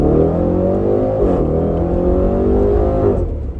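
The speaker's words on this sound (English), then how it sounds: "Now it's time to get it out on the road and see how it drives. All right, driving the Velar." A 2020 Range Rover Velar SVAutobiography Dynamic Edition's engine pulls hard on the road, a loud, close, continuous roar with rising and falling pitch sweeps as it accelerates through revs, and nobody speaking.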